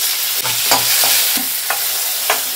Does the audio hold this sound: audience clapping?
no